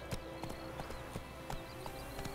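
Horse hooves in The Witcher 3 video game, a quick rhythmic clip-clop of riding hoofbeats, steady and close, alone without talk.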